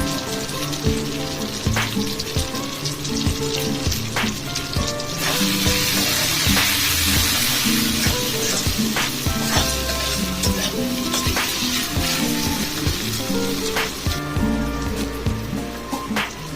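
Spices with a little Kashmiri chili powder fry in hot oil for a fish curry, giving a loud, close sizzle with constant crackling and frequent stirring scrapes and clinks throughout.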